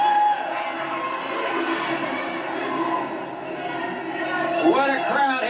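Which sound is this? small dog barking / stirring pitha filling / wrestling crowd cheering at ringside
wrestling crowd cheering at ringside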